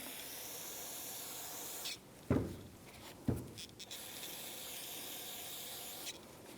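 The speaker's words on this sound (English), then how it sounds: "take a little parts cleaner, brake cleaner, and I'm going to spray it down." Brake cleaner sprayed onto rear brake parts of a Jeep Renegade: a steady background hiss broken by two sharp, loud spray bursts about a second apart, then a few fainter short hisses, with no talk.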